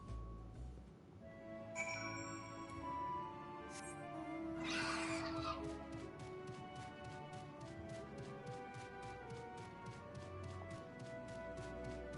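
A voice imitates a cat's thinking noises with meow-like, caterwauling tones, close and steady, over a busy game soundtrack with a bright burst partway through and a run of rapid repeated ticks toward the end.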